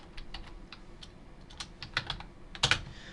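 Quick typing on a computer keyboard while entering a command at a Windows XP recovery prompt, with soft irregular key clicks and a few louder keystrokes near the end, close and fairly quiet.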